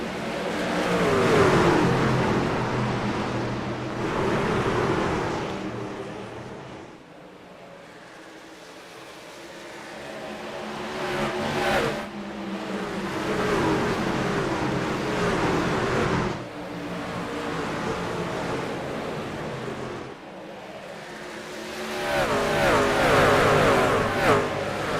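Race trucks roar around Iowa Speedway at the start of a 150-lap truck series race, engines revving loudly in waves as the pack sweeps past, with no talk.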